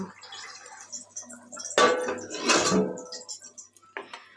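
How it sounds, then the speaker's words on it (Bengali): A metal plate is set over a pot of simmering fish curry, giving two sharp clattering clanks of metal on metal close up, with softer scraping taps around them in a quiet kitchen. "এগুলোকে দিয়ে একটা থালা দিয়ে ঢেকে দেবো পাঁচ মিনিটের জন্য"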